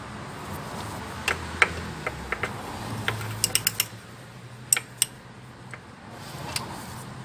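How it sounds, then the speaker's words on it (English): A 12mm socket wrench ratchets at the drain bolt of a GY6 scooter's gear case, with close, crisp clicking in short irregular bursts and pauses between them. "You will only need a 12mm socket wrench to remove the bolt."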